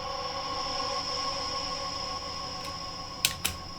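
A washed-out synth pad in Ableton, drenched in delay and reverb, sustains as steady bright tones that drift on without end, with two soft percussive taps near the close.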